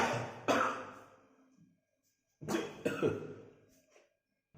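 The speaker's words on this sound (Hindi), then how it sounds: "हाँ खांसी आती" Two bouts of coughing, each a harsh burst that trails off, close by with a pause between them.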